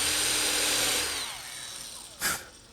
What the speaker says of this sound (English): the Forstner bit cuts a cylindrical hole